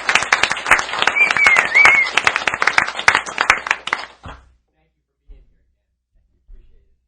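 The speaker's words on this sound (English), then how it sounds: "Let's give him a big round of applause" A live podcast audience claps and cheers with a high whistle rising above it, then the applause cuts off abruptly after about four seconds, leaving near silence.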